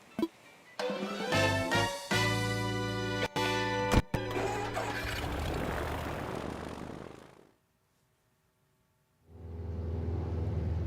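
A biplane takes off in the Animal Crossing video game with a buzzing, musical engine drone that swells, stutters with a few breaks, fades to silence, then rises again near the end, with no talking.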